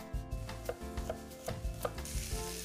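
Four garlic cloves being thinly sliced with a knife on a board: a quick, regular series of close, crisp taps, about eight cuts in a row, with no one speaking.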